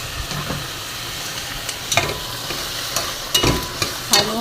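Chicken pieces frying in a pot for chicken mushroom soup, with a steady soft sizzle and several sharp scrapes and clacks as a utensil stirs them.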